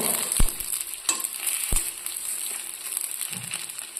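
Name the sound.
muttakaryappam frying in oil, flipped to cook both sides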